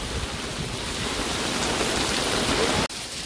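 Heavy storm rain pours down in a dense, continuous hiss that is loud and close, then cuts off sharply near the end.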